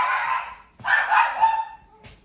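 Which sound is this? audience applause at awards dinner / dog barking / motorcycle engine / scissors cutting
dog barking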